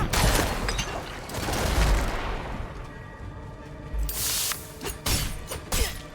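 Enemies shattering in Diablo 4 combat: a dense run of crashing, bursting impacts and booms, loud and repeated over several seconds with no talk.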